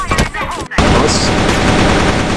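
Loud, rapid gunfire from the CrossFire online shooter: a few sharp shots, a brief gap, then a dense, sustained automatic burst.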